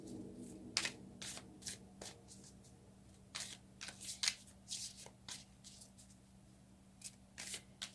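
Tarot cards shuffled by hand in a quiet room, a series of soft riffling bursts and slaps at an uneven rhythm, close and clear over a faint steady hum.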